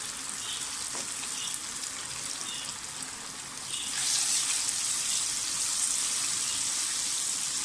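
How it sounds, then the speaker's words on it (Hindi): Spiced fish frying in hot oil gives a steady, close sizzle and crackle that grows slightly louder midway, with no talking. "लेकिन ऐसे आवाज़ आनी चाहिए फ्राई करते टाइम।"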